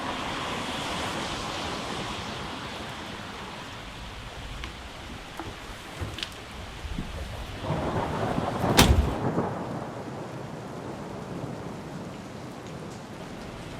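Steady rain falling outdoors at the Celtic Classic, a Celtic festival, with a broad continuous wash of drops and a louder burst of nearby rustle or splatter partway through.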